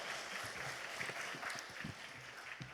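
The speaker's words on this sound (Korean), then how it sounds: "하나님께 영광의 박수를 드립니다." A church congregation claps in applause, a steady, fairly distant patter of many hands that fills the whole stretch at moderate level, with faint crowd murmur underneath.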